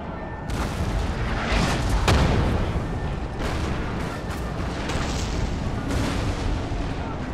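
Musket volleys and artillery booms from a Napoleonic battle in the strategy game Napoleon: Total War: dense, overlapping loud blasts and crackling gunfire rolling continuously for several seconds.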